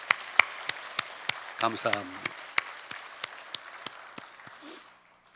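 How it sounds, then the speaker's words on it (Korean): Church congregation clapping during a Sunday service, sparse, separate claps in a loose rhythm that thin out and fade, with a short spoken phrase in the middle. "우리 주님께 영광의 박수."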